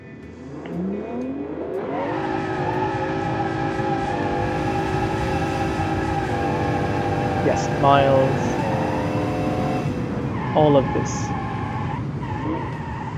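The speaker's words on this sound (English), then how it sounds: "we can actually smoke the tires miles and miles and miles" A V12 engine in a muscle car roars steadily during a burnout while tires squeal and scrub in long, sustained screeches, with someone talking over the noise.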